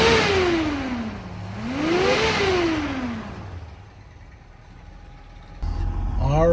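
A 1965 Ford Mustang engine revs up and down twice on a test ride, rising and falling loudly from close by, then settles to a quiet idle before revving again at the end.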